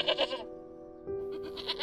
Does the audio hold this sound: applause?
no